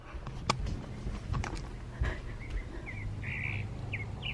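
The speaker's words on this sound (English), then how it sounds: "The yard is full of crows." Crows call in a backyard, giving several short, mid-distance caws in quick succession over rustling and faint background noise, with no voices.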